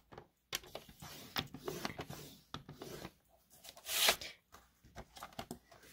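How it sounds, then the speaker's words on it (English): A paper trimmer's scoring blade drawn across cardstock gives faint, close scraping and rubbing strokes, with a few soft taps and one brief louder swipe. "place it at 2 inches, and then we're going to use our scoring blade"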